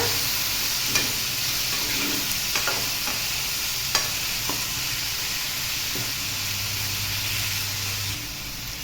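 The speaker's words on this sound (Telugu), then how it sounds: "ఇప్పుడు ఒకసారి కలుపుకుందాము అడుగంటకుండా." Okra and egg curry with tomato pieces stirred in a hot pan, a continuous close sizzle and hiss with a few scattered scraping taps of the spoon.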